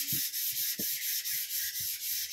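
Steady, gritty rasp of sandpaper worked back and forth over wood putty in quick rhythmic strokes, close and continuous, with no voices.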